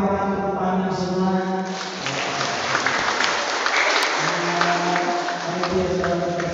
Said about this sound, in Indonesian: Mari kita tepuk tangan semua.